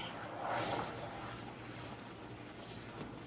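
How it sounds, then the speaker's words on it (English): Butter simmering in a pan as it cooks down into ghee, giving a steady, dense bubbling and sizzling hiss that stays fairly even throughout, with no talking. "You hear that bubbling right now going on, folks?"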